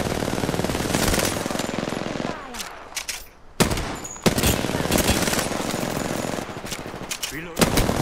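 Rapid automatic gunfire from the Apex Legends video game, loud close bursts with short pauses between them and one longer gap near the middle.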